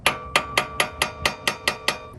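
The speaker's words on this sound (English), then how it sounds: "I'm just gonna tap on it a little bit in a couple spots to help release it from the hub" Hammer tapping the wheel hub flange of a Toyota 100 Series Land Cruiser to free it from the hub: eight evenly spaced, sharp metallic knocks, close and clear with no talking.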